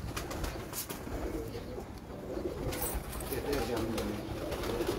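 Breeder pigeons coo in soft, repeated low calls at close range, mixed with light rustling and clicks in the loft, while people talk nearby.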